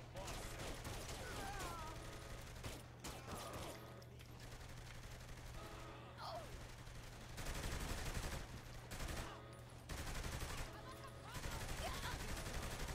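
Gunfire during a sniper fight in the Saints Row 3 video game, with bursts of shots running throughout over a steady low game hum, louder stretches in the second half.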